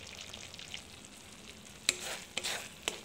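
Masala being stirred and fried in oil in a home kitchen pan, a steady soft sizzle with a few sharp scrapes of the spoon against the pan near the end, close and fairly quiet.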